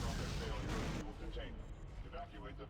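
Explosions go off in a corridor in the survival horror game Dead Space, a dense, continuous wash of booms and rumble that stays loud throughout, with some rattling and crackle in the later part.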